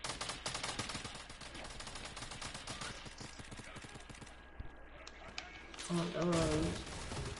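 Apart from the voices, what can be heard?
sniper gunfire in a video game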